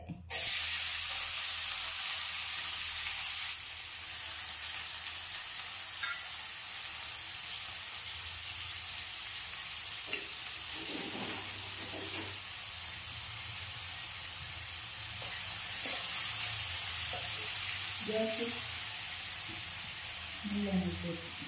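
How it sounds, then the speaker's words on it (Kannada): Chopped onion sizzling in hot coconut oil in a pan, a steady loud hissing fry that starts with a strong burst and continues with occasional crackles and faint stirring. "ಈಗ ಎಣ್ಣೆ ಕಾದ ನಂತರ ಅದಕ್ಕೆ ಸ್ವಲ್ಪ ಒಂದು ಈರುಳ್ಳಿಯನ್ನು ಕಟ್ ಮಾಡಿದ ಈರುಳ್ಳಿಯನ್ನು ಹಾಕ್ತಾ ಇದ್ದಾರೆ."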